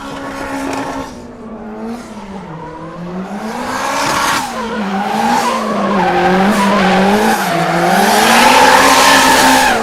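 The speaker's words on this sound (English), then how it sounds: "The engine sounds great on that car." A Nissan S14 drift car fitted with an S13 rear end skids through a Formula Drift ProAM qualifying run at Sebring Raceway. The loud engine revs continuously, its pitch swooping up and down while the tires squeal throughout.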